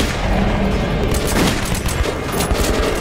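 Dense, continuous gunfire from the video game Metro 2033 Redux, rapid overlapping shots and booms filling the whole stretch at high volume with no pauses.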